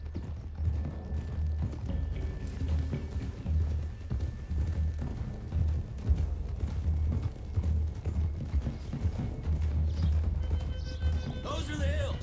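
Horses gallop in the Red Dead Redemption 2 video game, a steady drumming of hooves under wind and ambient noise, moderately loud and continuous, with a brief whinny near the end.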